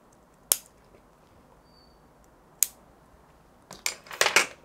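Pruning scissors snip through a larch bonsai branch: two crisp, isolated cuts spaced apart, then a quick cluster of several sharp snips near the end, close and clear in a quiet room.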